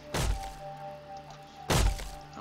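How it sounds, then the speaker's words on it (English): Two heavy, hollow thuds about a second and a half apart as wooden boxes are smashed in the survival game 7 Days to Die, each blow loud and close with a short crunch. "So these boxes we can smash on"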